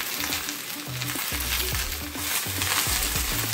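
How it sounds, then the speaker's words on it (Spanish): Zucchini and onion frying together in a pan give a steady close sizzle that runs throughout, with low knocks and scrapes from stirring breaking in at intervals. "Aquí ya eché la calabacita, ya para que se fría con la cebolla"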